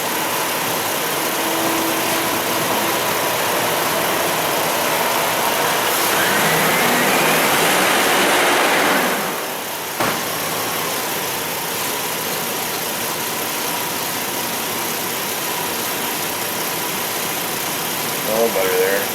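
A car engine with a charging system fault, where voltage keeps dropping under full electrical load, idles steadily and then gets a brief blip of the throttle midway, and a voice talks over the engine.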